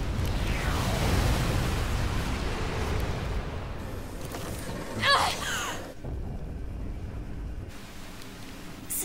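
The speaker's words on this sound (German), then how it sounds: "riesige Explosion." A huge explosion in the video game NieR:Automata rumbles as a dense, loud, low roar that fills the scene, with a sharper burst midway before it fades into a quieter rumbling wash.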